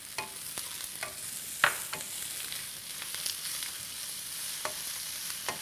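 Tsiren tukunya, spiced meat, sizzles and fries in a pot, a constant hiss with scattered crackles and a few sharp clicks of stirring, close by with no voices.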